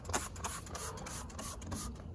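Short bursts of spraying hiss repeat rapidly, like a trigger spray bottle squeezed over and over, fairly close, spraying soapy water around a plant stem.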